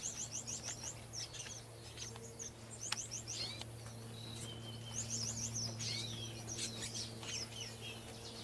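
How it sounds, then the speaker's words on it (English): Red siskins chirp in rapid, bright bursts and twittering phrases, fairly near, over a steady low hum on a warming, calm morning. "The birds have got a little bit more life in them now."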